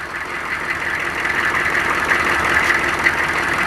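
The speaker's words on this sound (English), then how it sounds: "I hear that fuel pump clicking away." Chevrolet K2500 truck idling cold, its engine a steady close drone with a faint repetitive fuel pump clicking running through it, no talking.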